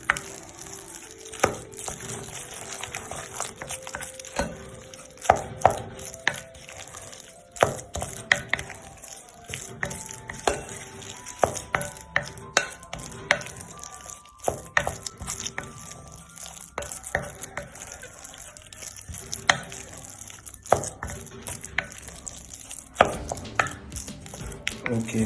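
Breadfruit ball mixture is stirred with beaten egg in a bowl, giving a steady run of wet, sticky scrapes and irregular clicks and taps, close and fairly quiet, with no talking.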